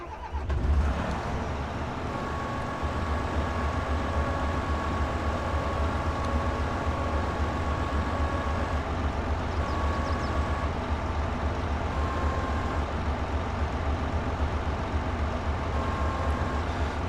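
In Farming Simulator 22, a Krone BiG M 500 mower's folding machinery drones steadily with a low engine rumble and faint whining tones, continuous and close, with a brief clunk near the start.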